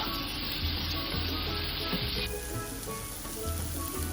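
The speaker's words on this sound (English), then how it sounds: "So I'm adding my onions because I need that to fry out nicely." Chopped onions sizzling and frying in a hot pan, a steady continuous crackle with faint stirring, close and moderately loud with no talking.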